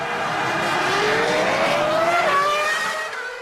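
Formula 1 race car from the old-school era, a Toyota-engined car, suffering an engine failure mid-race: a loud, continuous high engine whine with pitch sweeps rising and falling, steady throughout before easing at the end.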